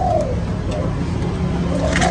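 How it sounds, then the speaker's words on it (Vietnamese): Spotted dove cooing close by, a few soft low hoots sounding over a steady low hum and faint background noise. "Đó, nó gù đó."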